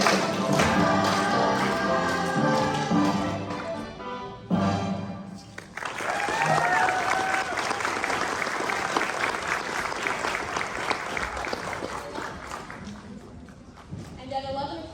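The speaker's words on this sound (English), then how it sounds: "Clap your hands and celebrate." An audience claps along at a Dickens Christmas stage show, music playing at first, then dense sustained clapping that gradually fades out.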